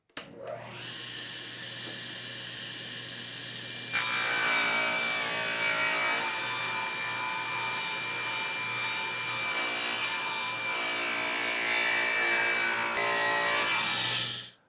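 Table saw with the blade raised about a quarter inch cuts a wooden workpiece for a cigar box guitar, dust collection running. A steady motor whine hums first, then a louder, rasping cut holds for about ten seconds.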